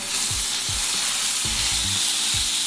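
Garlic frying in a pan, a dense continuous sizzle close up, with a few soft scraping stirs punctuating the hiss and no voices.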